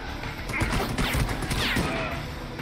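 Scattered gunfire from a shooter video game during a livestreamed match, short cracking bursts and a few sharper shots over busy game noise, with a player talking excitedly over it.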